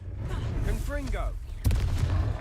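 A Confringo blasting spell from Hogwarts Legacy goes off as a sudden broadband burst midway, following a stretch of game effects and a voice, with the louder rumbling tail persisting to the end.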